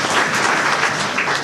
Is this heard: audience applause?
yes